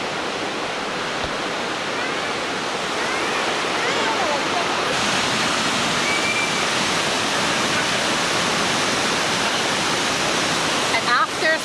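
Agua Azul waterfalls in Mexico roaring as a constant, dense rush of falling water, loud and close throughout with no breaks.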